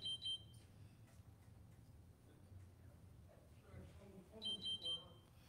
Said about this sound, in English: There seems to be an alarm going off.